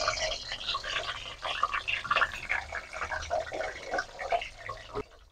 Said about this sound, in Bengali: প্রথমে আলুগুলোকে সব ভেজে নেব।